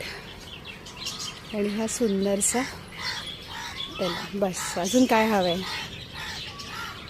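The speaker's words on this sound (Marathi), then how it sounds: "आणि हा पक्ष्यांचा किलबिलाट" Small birds chirp and twitter in the background while someone talks over them outdoors at a plant nursery in Nerul.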